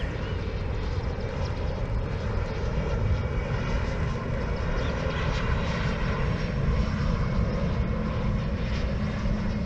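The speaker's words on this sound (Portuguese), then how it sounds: "Esse pouso, essa rota de pouso do Pão de Açúcar é muito legal, até para quem está no avião. Mas é um avião pequenininho esse daí." A small airplane passing overhead on its landing approach near Sugarloaf Mountain in Rio de Janeiro, a continuous loud engine drone holding steady throughout.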